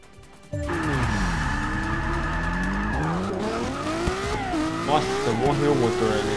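Race car in the Forza 6 video game spinning out, its engine revving loudly and shifting pitch while tires squeal continuously throughout the close, busy game audio.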